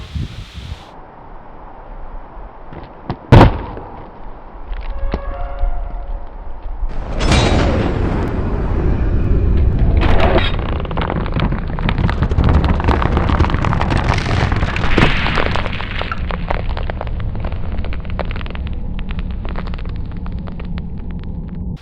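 A pumpkin lying on its side bursts with a sharp, loud bang, followed by a sustained roaring, crackling rush of debris and noise that stays loud to the end.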